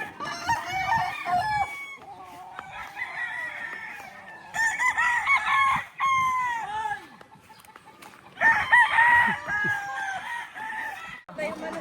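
Several loud gamecock crows ring out one after another at a gamefowl farm, close by, with other fowl clucking and calling in between.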